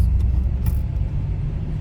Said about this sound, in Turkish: Hızlanıyoruz, ikiye alıyoruz.